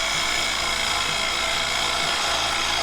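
A wood lathe turning a 7-inch fiddleback claret ash bowl, a loud steady whir and hiss of the gouge cutting as shavings peel off, with continuous rumbling underneath.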